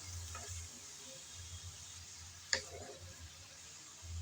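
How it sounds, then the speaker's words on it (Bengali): Pumpkin greens being stirred in a pan on the stove: a faint, steady sizzle with soft scraping from the spoon and one sharp click against the pan partway through, no one talking. "নেড়ে চেড়ে ভালোভাবে মিশিয়ে নিলাম।"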